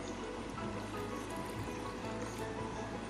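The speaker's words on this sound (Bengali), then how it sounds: "এবারে আমি এই জলটাই আমি এখানে আমি ঢেলে দিচ্ছি" Water poured out into a container, a steady rushing trickle that stays even and fairly loud from start to finish, heard alone without speech.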